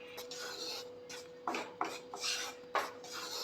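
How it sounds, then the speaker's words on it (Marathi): Finger millet flour going into a hot kadhai over a gas flame for upma, heard as soft rasping, scraping bursts against the pan, a few sharper strokes standing out, with no talk. "पीठ घालून घेते"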